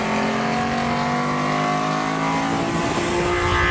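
A Prince S20 2-liter straight-six, tuned to 160 horsepower, revs hard and steadily throughout, a loud, close engine note with a slight rise in pitch toward the end and no talking.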